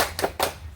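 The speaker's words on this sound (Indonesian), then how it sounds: "Tepuk semangat." Schoolchildren in a third-grade classroom clap out the rhythmic tepuk semangat chant, two sharp group claps close together and fairly loud, with no voices over them.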